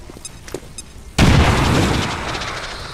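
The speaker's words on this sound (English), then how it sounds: "Frag out!" A frag grenade detonates in the XCOM 2 strategy game: after a near-silent second with faint clicks, one sudden loud blast erupts and rolls into a long, rumbling decay that lingers to the end.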